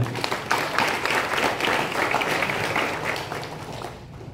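Students at a high school campus session on Akmil admission applauding, a steady wash of many hands clapping that swells after the start and fades near the end.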